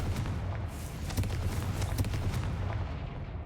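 A Confringo blasting curse explodes in Hogwarts Legacy, a rumbling burst of blast and crackling debris that holds steady for a few seconds before tailing off.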